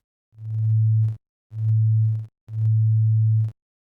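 A low steady sine tone from a Plugdata patch sounds in three separate bursts, each beginning and ending with sharp clicks that crackle over the hum.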